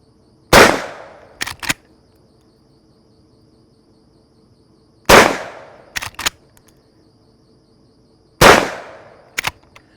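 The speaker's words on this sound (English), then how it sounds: "This is Federal rifled slug, and it's no problem shooting it out of a full choke." A Henry lever-action .410 shotgun with a full choke fires Federal rifled slugs: three loud, sharp shots spaced several seconds apart, each followed by a pair of quick metallic clacks as the lever is cycled.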